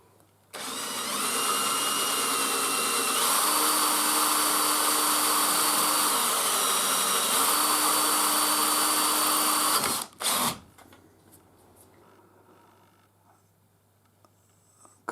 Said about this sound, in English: So I'm drilling it and tapping it.